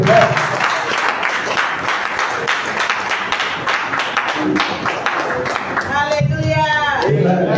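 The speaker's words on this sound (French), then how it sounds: "Applaudissez pour elle." Church congregation clapping for a guest speaker at a service, a loud sustained burst of applause with a few voices calling out, and a talking voice coming through toward the end.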